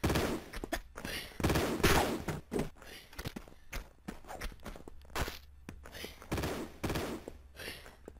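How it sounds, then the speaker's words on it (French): Gunfire from a machine gun in the video game Tomb Raider 2, heard as scattered sharp bursts and single shots at an irregular pace over several seconds, mixed with footsteps and light game ambience. "On va prendre la mitrailleuse, simplement."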